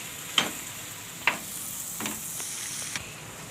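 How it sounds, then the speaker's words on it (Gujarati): Flour roasting in oil for green onion lotiyu, a low steady sizzle broken by several sharp stirring clicks and scrapes from a spoon against the pan, close and without talk. "તેલમાં શેકાવા દેવાનો છે અને હારો શેકાઈ જાય।"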